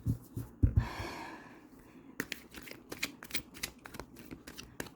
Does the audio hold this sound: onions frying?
no